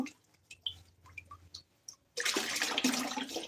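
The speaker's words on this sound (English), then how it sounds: "Wow, that's a lot of water." Water gushes from a tap during pottery practice, starting suddenly after a few quiet clinks and drips and continuing as a loud, steady splashing rush close by.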